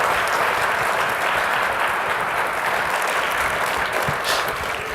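A crowd at an evening panel talk on economic globalism and nationalism in Macomb County claps in sustained, even applause that is fairly loud throughout.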